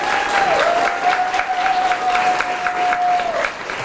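Audience applause for award recipients at a JROTC military ball, a steady wash of clapping lasting several seconds, with a sustained electronic tone running underneath.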